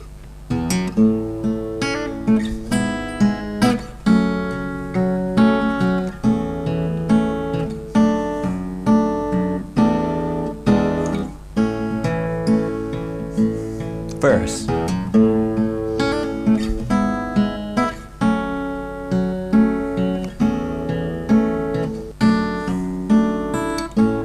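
Acoustic guitar performs a song at a reasonably slow pace, a steady flow of fingerpicked notes and ringing chords played solo and up close, unbroken for the whole stretch with no voice.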